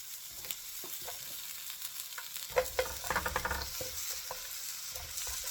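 Onion is sautéed in a hot pan for yakiniku donburi, giving a soft steady sizzle with a few bursts of stirring and scraping partway through.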